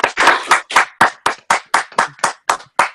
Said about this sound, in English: let's all give Miss Dwyer and Miss Johnson a round of applause